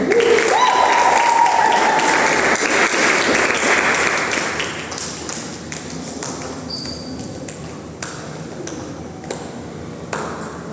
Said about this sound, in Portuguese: Receba um aplauso da nossa obreira Amanda